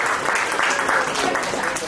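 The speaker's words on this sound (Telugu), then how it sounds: "ఐ థింక్ అందరూ ఒకసారి చప్పట్లు కొడితే అది చెప్తుంది" Audience clapping together at a school get-together reunion of Vidya Bharati Talent School in Doulthabad: a dense, steady round of applause from a crowd, fairly loud and close throughout, with a few voices mixed in.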